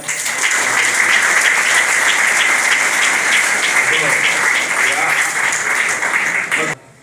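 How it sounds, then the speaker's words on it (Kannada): Audience at a student union inaugural event clapping together in a dense, sustained burst of applause that holds steady for several seconds, then cuts off abruptly near the end. "ಅವರಿಗೆ ಒಂದು ಬಿಗ್ ಚಪ್ಪಾಳೆ"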